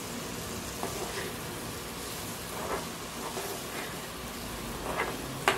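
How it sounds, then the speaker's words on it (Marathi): Colorful vegetables sauté in spices in a pan for a veggie pulav, giving a steady close sizzle with a few soft stirring scrapes and clicks throughout, and no voices. "मस्त मस्त परतून घ्यायचं आपल्याला मसाल्यांमध्ये।"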